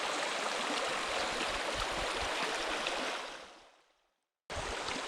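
Black Creek, clear and flowing along a winter hiking trail, gives a steady close rushing burble that fades out, breaks off in silence, then returns abruptly.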